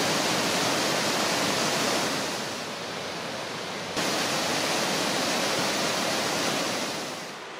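Steady roar of a cascading waterfall on a hemlock-shaded slope in Western Massachusetts, loud and continuous broadband rush with a slight dip midway, no voices.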